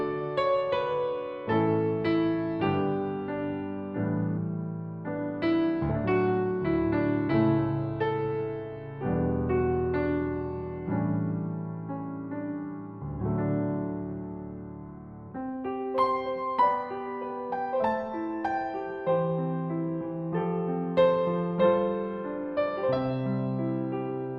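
A 1955 Steinway D grand piano, recorded with binaural microphones, plays a flowing passage of chords and melody, close and spacious with a wide, immersive stereo feel, no voices.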